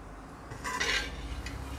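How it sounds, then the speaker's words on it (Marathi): A lid comes off a pan of cooking mango barfi mixture with one short, close metallic clink and scrape, then a faint rattle against a low kitchen hum. No one speaks. "आपण यावरती झाकण काढून घेऊया"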